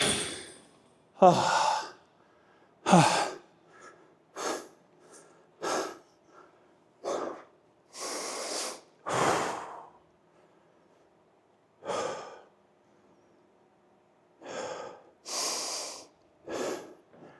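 Heavy, ragged breathing of someone recovering between weightlifting sets at a gym: repeated loud exhales, sighs and snorting gasps in uneven bursts, close to the listener, separated by short quiet gaps.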